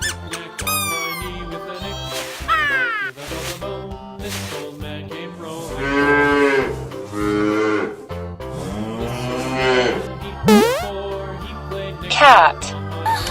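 Cartoon-style cow moos sound over children's learning music, long drawn-out lowing calls repeated a few times up close, mixed with squeaky toy effects and sung or spoken animal names.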